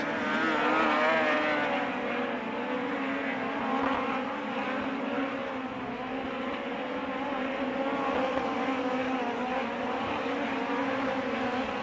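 USAC midget race cars at full throttle on the Red Dirt Raceway dirt oval give a steady, loud engine drone that wavers in pitch as the cars circle.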